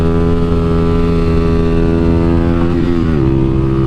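A Kawasaki KLX300SM motorcycle engine drones loud and steady in second gear at about 20 mph, its pitch wavering as the throttle shifts near the end for a wheelie; no speech.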